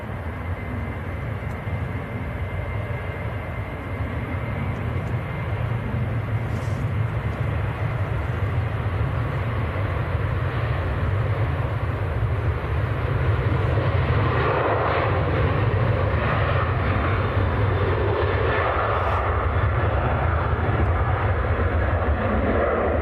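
A TUI airliner departs Manchester Airport for Tenerife, its engines a loud, sustained low roar that swells a little in the second half and holds steady throughout without voices.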